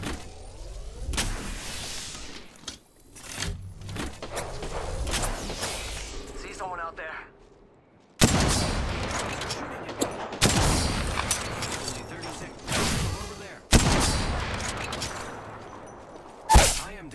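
Gunfire in the video game Apex Legends comes as sharp, loud shots and short bursts scattered across the clip, separated by quieter gaps and other game effects, with a voice speaking at times.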